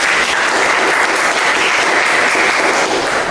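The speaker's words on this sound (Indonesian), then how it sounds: "Oke, tepuk tangan buat Ikrar" Students applaud in a classroom, loud continuous clapping with no pause throughout.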